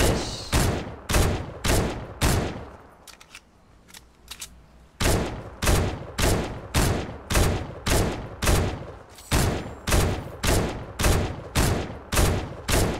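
Gunfire in a shooter video game, loud rapid bursts of shots in a steady rhythm, pausing briefly in the middle before resuming in repeated volleys.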